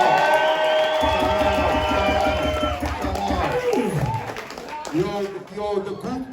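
A crowd at a deluxe album listening session cheers and claps in a loud, steady burst, with music playing and voices rising over it before the noise tapers off.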